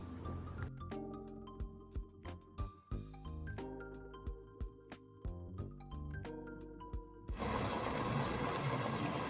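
A blended sauce of tomatoes, peppers, garlic, ginger and onions frying in a pan bursts into a loud, dense, steady sizzle near the end, after a stretch of music.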